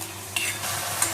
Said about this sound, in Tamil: வெங்காயம் வதங்கிட்டு இருக்கிறது